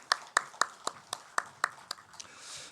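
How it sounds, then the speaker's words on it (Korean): A church congregation at a Sunday service claps in a slow, even rhythm of about ten sharp claps. The claps are close and distinct, and a soft murmur of voices swells at the end. "아주 크게 축복의 박수 하십시다."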